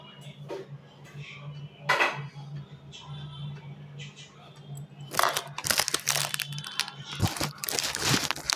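Pots and dishes clink and clatter in a home kitchen while fish curry with potatoes is reheated, sparse knocks at first, then denser rattling and scraping in the second half over a steady low hum.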